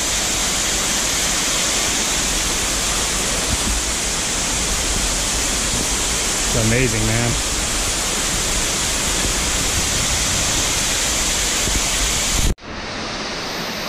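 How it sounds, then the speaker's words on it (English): An underground waterfall in Eden Falls Cave, in the Buffalo National River area, roars as a steady, dense wash of falling water. Someone speaks briefly partway through, and then the sound cuts off abruptly and turns quieter. "we're gonna go see the underground waterfall."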